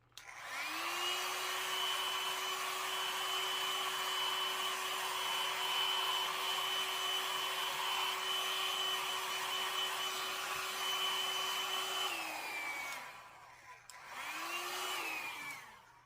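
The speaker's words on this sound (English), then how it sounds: "it is going to get noisy with the blow dryer" A blow dryer runs loud and close while drying a no-sew gnome, giving a steady whine that holds for about twelve seconds, winds down, and then starts again briefly.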